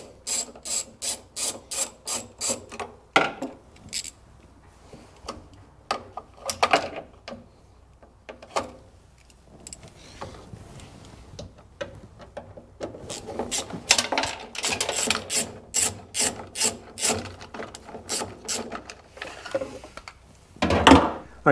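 A ratchet wrench clicks rapidly in quick bursts while two quarter-inch bolts are backed out of a Corvair electric windshield washer pump bracket, close and loud, with pauses between runs of ratcheting.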